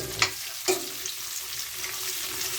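String beans stir-fry in a pan with dried squid, crackling in a steady sizzle. Two sharp clacks from a utensil scraping the pan come early, then the frying goes on close and fairly quiet with no voices.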